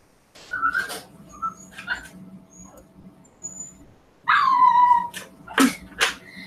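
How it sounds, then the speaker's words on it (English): A puppy lets out high, thin whimpers and yips in short, separate bursts, then a longer, louder whine in the middle. The sound is close and indoors, with quiet gaps between the cries. "Miko, no puppy noises in the background"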